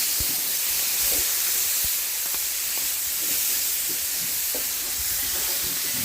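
Steady broadband hiss of steam rising from a hot pan being deglazed with lardons, continuous and fairly loud for the whole stretch, with a few faint clinks and scrapes underneath.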